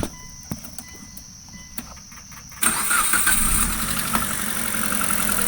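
An old Mitsubishi car with a GDI direct-injection petrol engine cranks briefly after a couple of faint clicks, then catches and settles into a steady, loud idle, close to the engine bay, with no talk.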